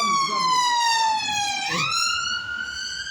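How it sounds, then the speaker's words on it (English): Ambulance siren wailing steadily in a strong harmonic tone, dipping in pitch then jumping up as it passes close by on the street, loud and continuous. "It's the ambulance"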